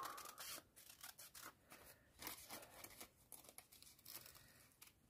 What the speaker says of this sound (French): il ne faut pas mettre son doigt entre les lames de ces ciseaux